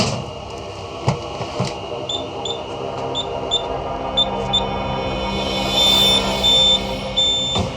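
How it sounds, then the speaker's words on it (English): A border-security drug test device sounds its alarm for cocaine after sampling a tightly packed white powder: a repeating series of short, high electronic beeps, steady and fairly close, with a longer pair of tones near the end over a background hum. "So that's an alarm for cocaine."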